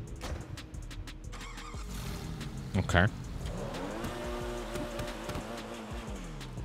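A modified GT3 sports car engine in GTA 5 starts up and revs, with a loud burst near the middle, then settles into a steady rumble while someone speaks briefly over it.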